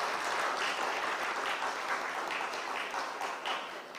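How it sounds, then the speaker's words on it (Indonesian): An audience at a public debate between mayoral candidates claps in a steady, dense round of applause, heard somewhat distant and soft, easing off a little toward the end. "Tepuk tangannya boleh untuk kita semua"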